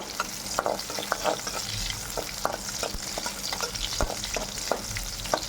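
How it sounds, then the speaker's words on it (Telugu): Tamarind sizzles steadily in hot oil for an eggplant and tomato curry, with a constant frying hiss broken by scattered spoon scrapes and clicks against the pan. "అది కూడా ఆయిల్లో నీట్గా ఫ్రై చేసుకోవాలి"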